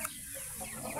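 Rhode Island breeder chickens in a backyard coop clucking softly in a short, faint stretch over steady background hiss.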